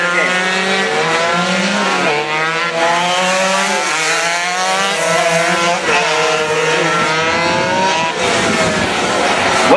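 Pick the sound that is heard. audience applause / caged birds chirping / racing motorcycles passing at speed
racing motorcycles passing at speed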